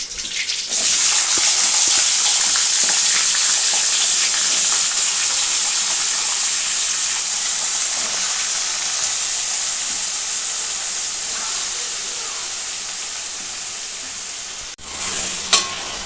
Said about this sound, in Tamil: உருளைக்கிழங்கு போட்டு நல்லா கிளறிக்கிடலாம் இதுலேயே எண்ணெயிலேயே கொஞ்சம் நேரம் நல்லா வேகட்டும்